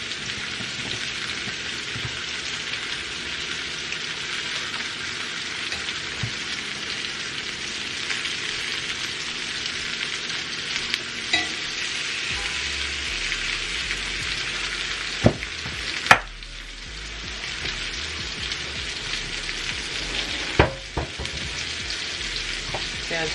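Lamb chops sear in butter in a hot pan, a loud, steady, close sizzle and crackle running throughout, with a few brief clinks and bumps of handling near the middle.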